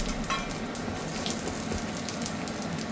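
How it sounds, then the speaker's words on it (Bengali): Five-spice seeds and cut dried red chillies hitting hot oil in a pan, a steady close sizzle and crackle that runs without pause. "তেলটা গরম হয়ে গেছে, এবার আমি এখানে 1 চা চামচ 5 ফোড়ন ও 2টো শুকনো লঙ্কা কেটে দিয়ে দিলাম।"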